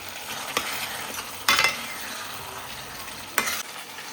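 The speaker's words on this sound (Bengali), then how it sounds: "তো এখানে আলু কষিয়ে নিচ্ছি।" Potatoes sautéing in hot oil give a steady close sizzle, broken by a few sharp scrapes and knocks of a spoon against the pan, with no voices.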